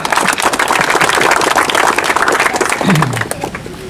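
Crowd applause for the champions at an athletics selection event, dense clapping from many hands that holds steady before tapering off, with a brief voice-like sound near the end.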